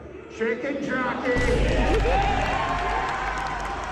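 A movie theater audience erupts into clapping and cheering at a Minecraft movie screening, a loud sustained roar of applause and shouts filling the room, following a brief voice at the start.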